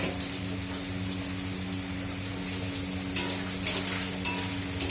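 Paneer sizzling in a hot pan, a dense steady fry with a few sharp spatters popping through near the end, close and fairly loud.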